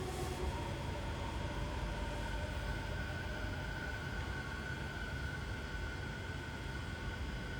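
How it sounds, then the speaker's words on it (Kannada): A rapid express train running from Machida to Shinjuku in Tokyo pulls into the station, a steady rumble with a sustained tonal whine across the whole stretch, moderately quiet and continuous, with no talk. "ಮಚ್ಚೇದಾಯಿಂದ ಶಿಂಜುಕ್ ಹೋಗೋ ಟ್ರೈನ್ ಬಂತು ರ್ಯಾಪಿಡ್ ಎಕ್ಸ್ಪ್ರೆಸ್ ಇದು"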